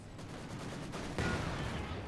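Rocket barrage and gunfire from an H-6 launcher in the video game Company of Heroes 2, a dense rumbling clatter of shots that grows louder and heavier partway through, continuous and with no talking.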